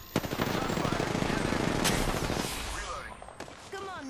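Rapid automatic gunfire pelting the player in a shooter video game, a dense loud rattle of shots for about three seconds before tapering off, with a voice speaking near the end.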